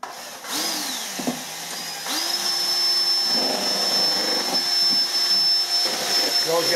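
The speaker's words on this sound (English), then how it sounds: "you always get a much better mix with the Bosch drill, I find." A Bosch electric drill mixing whirs steadily, its motor pitch rising and holding, with a person talking over the drone.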